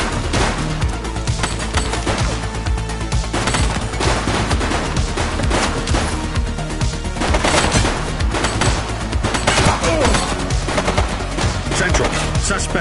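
Heavy automatic gunfire in a police action video game, with continuous rapid bursts and overlapping shots sounding loud and close throughout.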